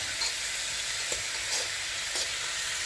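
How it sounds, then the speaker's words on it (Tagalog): Pork browns in a hot pan with onions for binagoongang baboy, giving a steady close sizzle with a few soft stirring clicks and scrapes over the frying hiss. "tinaas ko ulit yung heat ng pan natin para lightly brown ang ating pork"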